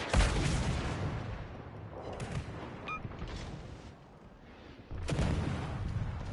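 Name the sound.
naval weapons firing in World of Warships Legends video game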